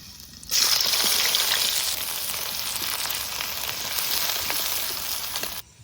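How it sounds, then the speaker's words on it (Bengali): Finely chopped onion hits hot oil with cumin seeds, bursting into a sudden loud sizzle that stays strong and close for several seconds, then eases slightly before cutting off. No voices. "এবার দেবো কুচি কুচি করা পেঁয়াজ।"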